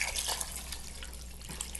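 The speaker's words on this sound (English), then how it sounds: "After this has sauteed for 1 to 2 minutes, you're gonna add vegetable broth." Three cups of organic vegetable broth pour into a pot for a vegan sweet potato and kale soup, a faint soft splashing trickle of liquid lasting under two seconds.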